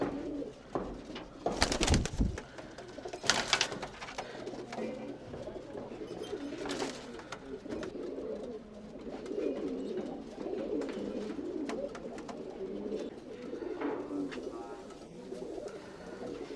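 Tumbler pigeons coo continuously in a loft, a steady low murmur of many birds close by, with a few louder flutters and bursts near the start.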